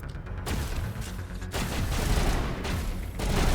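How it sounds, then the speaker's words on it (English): Rockets and heavy weapons fire in the video game Mass Effect, a loud, dense barrage of booming blasts and crackling bursts that swells after a brief lull and keeps pounding through the whole stretch. "Who's shooting rockets at me?"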